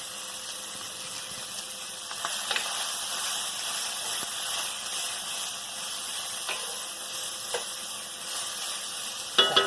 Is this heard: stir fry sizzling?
yes